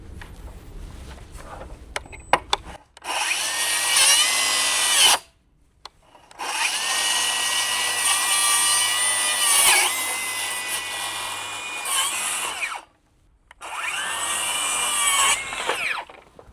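A DeWalt DCS590 and a Milwaukee 2834 cordless circular saw make three separate loud cuts, each a high whining buzz lasting a few seconds. Near silence separates the cuts, and faint clicks come before the first.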